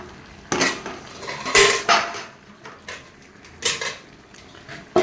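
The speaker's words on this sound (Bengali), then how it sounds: "এটা দিয়ে ঢেকে দেব" Metal lid settling onto a cooking pot of mixed vegetables, with several separate clanks and clatters of metal on metal, some close and loud, spaced between quieter moments.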